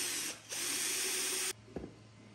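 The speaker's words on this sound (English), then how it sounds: "Drill a hole in the container." A power drill bores a hole in a plastic container, whining loudly in two close bursts with a brief dip between, followed by a short knock and quiet.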